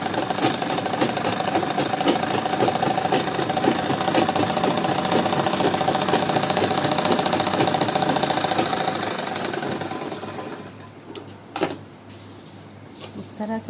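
A sewing machine runs steadily while stitching a Punjabi patiala salwar, a dense close whirring that lasts about ten seconds before stopping, followed by a few faint handling noises.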